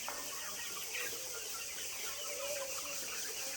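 Sonali chickens cluck at a poultry farm, a busy chorus of many birds with a few clearer clucks rising over a constant hiss-like flock murmur.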